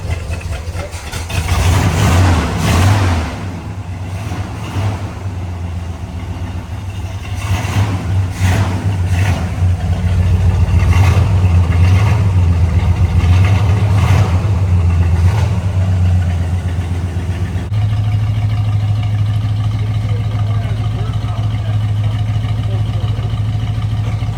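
A 1968 Pontiac GTO with a 400 V8 and three-speed idles steadily up close, a constant low rumble with a slight rise in revs partway through and voices talking over it.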